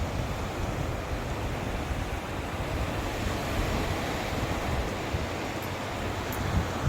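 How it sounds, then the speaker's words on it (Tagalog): Steady sea waves wash continuously onto the seashore, a broad rushing surf with light wind noise throughout and no voices. "dito po tayo sa tabing dagat"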